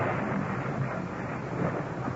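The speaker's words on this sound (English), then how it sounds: "the city of Rome is racked by a wild electrical storm." Thunder from a wild electrical storm, created as a radio drama effect, is a continuous deep rumbling roar, steady and fairly loud throughout, with no voices over it.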